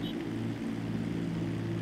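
Steady drone of a light propeller plane in a video game race, a constant buzzing engine hum held at an even, moderate level with no voices over it.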